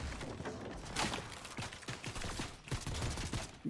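Gunfire in Fortnite ranked Reload match, a sniper rifle shot among rapid bursts and several thudding impacts, loud and close, repeated across the clip with no talk.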